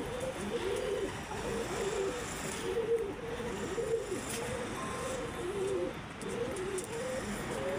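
A pigeon calling for its partner with repeated low, rolling coos in a steady rhythm close by, no voices present.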